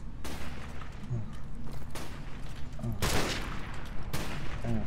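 Gunfire in Call of Duty: Modern Warfare Remastered rings out as a run of sharp, loud shots with broad bursts at steady intervals over a constant game background, with no talking.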